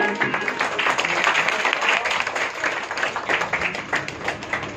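An audience claps steadily after a young girl's dance performance at a spiritual gathering, a dense, even patter of many hands sustained throughout at moderate loudness.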